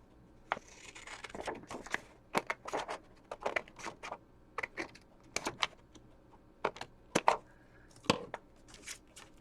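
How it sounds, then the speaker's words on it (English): A sheet of letter-size paper being cut along a line with scissors: a close series of crisp, irregular snips and paper rustles, each sharp and brief, with short pauses between cuts. "I'm going to cut up this line."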